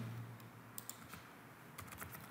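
Typing on a computer keyboard while entering data into QuickBooks Desktop 2021 accounting software, a sparse run of soft, quick key taps close by over a faint steady hum, with no talking.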